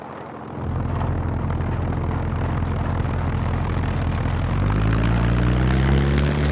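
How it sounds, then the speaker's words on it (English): A propeller airplane in the survival video game SCUM drones overhead as a loud, continuous engine roar that swells and rises in pitch toward the end. "Is that a plane?"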